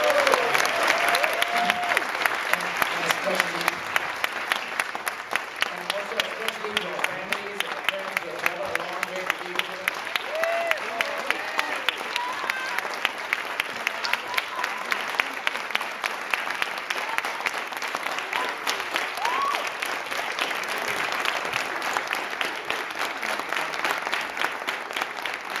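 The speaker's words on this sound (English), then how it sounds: "So, Masons, will you please join me in giving a hearty round of applause to Paulina, Emma, Deb, the guest faculty." An audience at a certificate ceremony claps in sustained, hearty applause lasting the whole stretch, dense and even, with a few faint voices mixed in.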